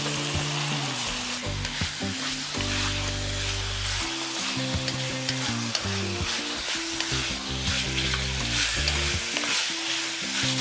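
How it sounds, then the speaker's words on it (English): Beef sizzling and stir-frying in seasoning in a pan, with a loud, steady frying hiss running throughout and repeated scraping and stirring on top. "So we need to stir fry first this beef to the seasoning."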